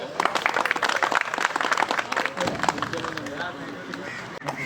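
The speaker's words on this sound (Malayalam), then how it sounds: "ഒരു ക്ലാപ്പ് കൊടുത്തേ." A crowd breaks into scattered hand clapping, dense and lively at first and then thinning out, with voices chattering over it throughout.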